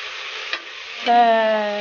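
Large onions sautéing in a pan, a steady soft sizzle with a brief stir, then a faint tonal hum rises over the frying near the end.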